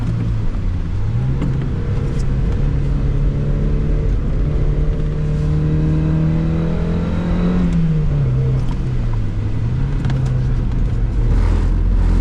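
A Mazda Miata NB with a 1.6 engine revs hard and steadily on a wet circuit in the rain, its pitch rising and falling as the worn tires lose grip, loud and close with no talking.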